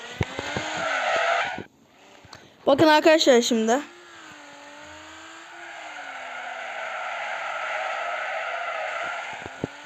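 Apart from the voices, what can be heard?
car drifting with tire squeal in a video game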